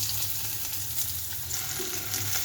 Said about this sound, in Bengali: এখন তরকারিটা তেলানি দিব।